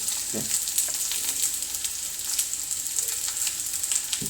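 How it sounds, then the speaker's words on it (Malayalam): Okra sautéing in oil in a pan, giving a steady close sizzle and crackle with occasional soft stirring knocks. "ഇതാ അടപ്പത്ത് ഞാൻ ചീനച്ചട്ടി വെച്ച് എണ്ണ ഒഴിച്ച് വെണ്ടക്ക പിന്നെ വഴറ്റാനായിട്ട് ഇട്ടിട്ടുണ്ട്"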